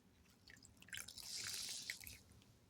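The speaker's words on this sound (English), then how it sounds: "You're gonna submerge the sponges in the water" Dripping and sloshing water as makeup sponges are submerged, soft and close, rising to a brief bubbly splash in the middle before settling back to light trickling.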